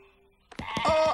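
Sheep in a farm animal setting let out a loud, close bleat with a few wavering pulses, following a brief quiet moment.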